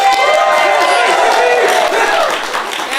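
An improv comedy theater audience cheers and claps loudly at the start of a Friday night show, a dense close burst of whoops and applause that tapers off slightly toward the end.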